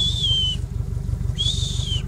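A farmer's whistle calling cows gives two sweeping high blasts, each about half a second long and separated by a short gap, over a steady pulsing low engine rumble.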